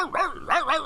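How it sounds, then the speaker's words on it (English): Dogs bark in a quick run of three or four sharp, close barks with a slight growl, heard alone without talk. "you heard a bunch of dog barking"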